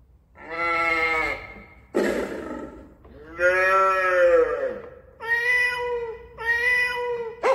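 Animal sound effects from a Yamaha PSS-E30 keyboard's SFX kit play one after another: a long cow moo, then several drawn-out meowing or bleating calls, each loud and clear with short gaps between.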